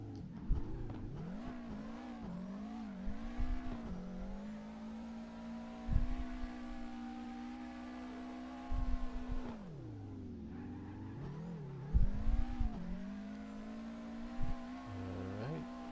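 A Nissan Z34 drifting in CarX Drift Racing, its engine holding a steady high-revving drone that dips and climbs as the throttle is lifted and pressed again, with brief tyre and impact bursts.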